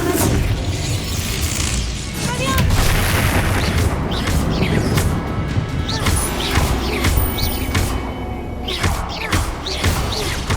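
A Bombarda spell blast in Hogwarts Legacy booms and crashes in a dense, continuous barrage of heavy impacts and rumbling debris, loud throughout, with scattered sharper cracks and effects layered over it.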